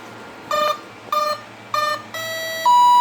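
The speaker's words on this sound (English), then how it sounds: "We hear the 3 beeps indicating that we have 3 cells" Three short electronic beeps at even intervals from a model aircraft receiver, signalling a 3-cell battery, followed by a longer tone that shifts into a sustained higher beep, clear and close with no talking.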